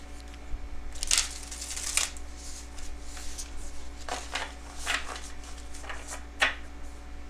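Cards are riffled and shuffled in several short, crisp bursts against a low steady hum, with no talking.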